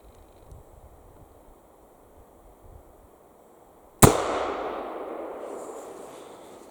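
A .44 rimfire drop-breech black powder rifle fires a single sharp, loud shot that rings out in a long, fading decay over faint outdoor background noise.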